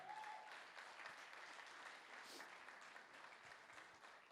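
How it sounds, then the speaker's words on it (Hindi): A crowd applauds at the 3rd anniversary gathering of an Indore team, with sustained clapping heard faintly and at a distance, without a break. "तालियां।"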